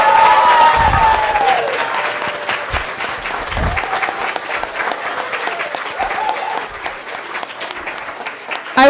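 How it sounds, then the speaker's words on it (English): Audience applause after a mock trial, loud clapping from a crowd that starts strong and carries on steadily for several seconds, with a few louder thumps early on. "let's have a big round of applause for all of our participants."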